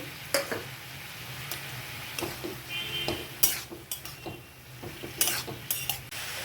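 Chopped onion and green chilli dropped into hot tempering for a banana stem dish, sizzling under repeated clinks and scrapes of a spatula against the pan, close and moderately loud.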